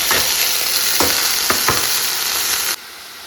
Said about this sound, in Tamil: இதில் வெங்காயம் நல்லா வ வதக்கி விட்டுட்டு நம்ம வேக வச்சு எடுத்து வச்சுக்கோ இல்லைங்களா அந்த வாழைப்பூவை இதில் சேர்த்துட தாங்க